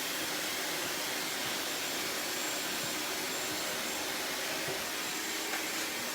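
A hair dryer blows continuously while a short layered haircut is dried, a steady rushing whoosh with a whining motor hum, constant and fairly close, no speech.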